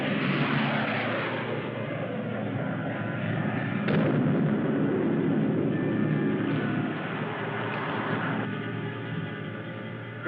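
Spaceship guns and explosions in a 1955 sci-fi serial, a steady loud roar of rocket fire with a sharp blast near the four-second mark and a lower rumbling tail toward the end.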